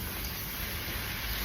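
Steady rain falling during an outdoor cooking session where shrimp are being prepared, a continuous broadband hiss of drops on surfaces with no talking.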